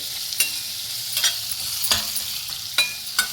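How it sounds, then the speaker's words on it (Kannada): Onions sizzle in a pan for a raw jackfruit fry under a constant frying hiss, while a spatula scrapes and knocks the pan about six times in an irregular rhythm. "ಈರುಳ್ಳಿ ಚೆನ್ನಾಗಿ ಹಸಿ ವಾಸನೆ ಹೋಗೋ ತನಕ ಇದನ್ನು ಫ್ರೈ ಮಾಡಿಬಿಡಿ"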